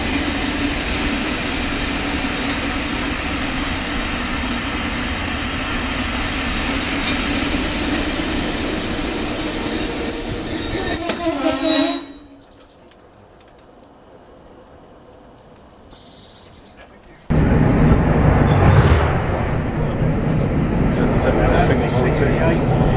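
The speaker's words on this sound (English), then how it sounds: "Pretty sure that was a class 37." A diesel locomotive hauling a rail tour train roars past loudly with a steady rumble and wheel noise, then drops away to near silence for several seconds before another loud passing burst returns.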